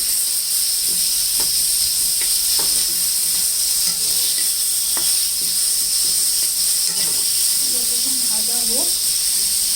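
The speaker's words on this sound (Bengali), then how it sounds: "অল্প তেল খাইগুলো অল্প তেল দিয়ে ভাজা হচ্ছে" Potatoes for a mutton curry frying in a small amount of oil, giving a steady, close hiss and sizzle throughout with a few soft clicks of stirring and a brief murmur near the end.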